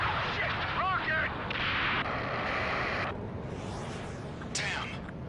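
Rocket explosion in the Ace Combat 7 video game, a heavy boom rolling into a sustained roar of battle noise and gunfire, loud and close over game music.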